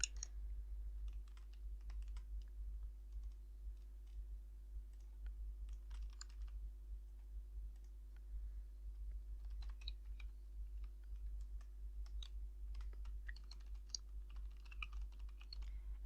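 Keys clatter in steady bursts as a name and student number are typed on a computer keyboard, the clicking fairly close but modest in level over a low constant hum, with no talking.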